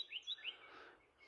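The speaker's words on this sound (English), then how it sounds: "Got the birds all singing." Birds chirp and tweet in short bright bursts early on, then fade into a soft hiss of background noise, heard outdoors while a Mossberg 410 shotgun stock is being shaped.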